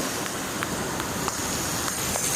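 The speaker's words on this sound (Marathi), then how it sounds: "भरपूर असा पाऊस चालू आहे आमच्या इकडे बघा" Steady dense hiss of heavy rain, constant and close, with occasional sharper drips or taps standing out.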